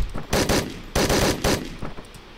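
Video game gunfire rattles out in several short bursts, with loud, close automatic shots separated by brief gaps and no talk over them.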